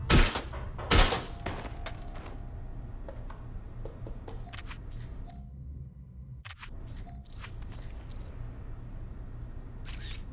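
Gunfire in the video game Watch Dogs Legion: two loud, sharp bursts open the scene, followed by scattered lighter cracks and clicks of continuing shots.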